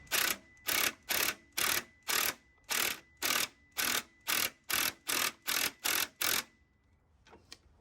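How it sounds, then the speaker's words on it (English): Belt tensioner pulley being ratcheted on a Jeep XJ during an alternator bracket swap, heard as about twelve even, sharp mechanical clicking bursts in steady rhythm, close and fairly loud, then a couple of faint ticks. "now I'm just going to snake down here and tension this belt up"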